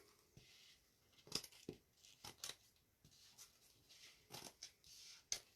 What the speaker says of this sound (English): because we hot glued it, we can literally just go in with our scissors